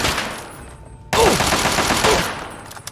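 Gunfire from Fallout 3, a long burst of rapid shots breaking in suddenly after a quieter stretch and running loud and close to the end.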